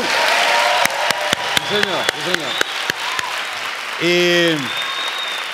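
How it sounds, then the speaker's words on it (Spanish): Studio audience applause for the band during a late-night TV interview, a burst of sharp, spaced claps and cheering, with voices talking over it. "un aplauso para la banda"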